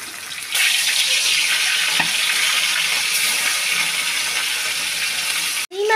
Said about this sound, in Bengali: এখন তেলাপিয়া মাছটাকে ভালো মতো ভেজে নেব।